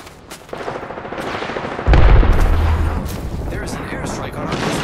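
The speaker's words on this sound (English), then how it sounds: "There is an airstrike on our position." Airstrike explosions pounding a position in a shooter video game, a deep, rumbling barrage that swells to a loud, sustained roar amid scattered gunfire, with voices heard faintly.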